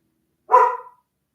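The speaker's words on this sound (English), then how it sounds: "She never barks like this." A single short dog bark, loud and close, standing alone indoors during a yarn unpacking.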